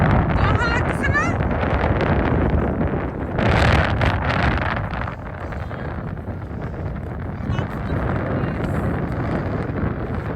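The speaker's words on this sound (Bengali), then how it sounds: "আমার অবশ্য বাতাসটা ভালো লাগতেছে।" Strong wind gusts buffet the microphone in a loud continuous roar on an exposed coastal mountain, swelling and easing, with voices occasionally audible beneath.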